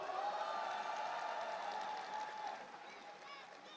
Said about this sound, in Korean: 여러분 박수로